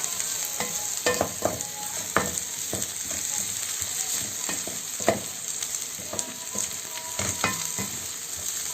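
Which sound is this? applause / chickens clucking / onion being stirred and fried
onion being stirred and fried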